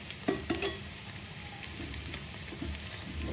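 Mustard seeds and small shallots hitting hot coconut oil, giving a steady close sizzle with a few sharp pops and crackles near the start and faint clatter of stirring underneath.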